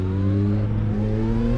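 A motorcycle engine in the Assetto Corsa racing game on the Nürburgring holds a high, buzzing rev with steady harmonic tones and a small dip midway, loud and close.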